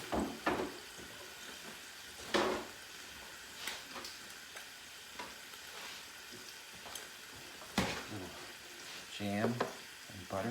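Eggs and sausage fry in a pan with a steady sizzle, broken by scattered sharp clanks and scrapes of utensils against the pan in a home kitchen.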